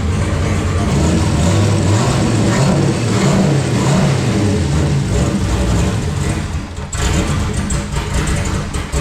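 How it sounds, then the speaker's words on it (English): A turbocharged car engine in a Stafford build with a sloppy turbo kit, revved cold: loud, sustained, rising and falling engine roar close by, with a brief dip near the end, no talking. "Cold revs."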